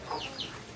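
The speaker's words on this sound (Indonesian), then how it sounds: "ini ayam kampung semua ya, kecuali ada satu nih ayam Bangkok" Free-range kampung chickens, along with one Bangkok chicken, give two short, soft clucks close by, with no talk.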